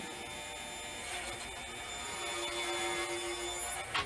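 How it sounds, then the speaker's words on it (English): A power saw rips a poplar board lengthwise into a 2-inch strip, a steady whining cut with a tonal hum that builds slightly and ends in a sharp knock as the piece comes free. "I'm ripping it down so that I've got a 2-inch wide board"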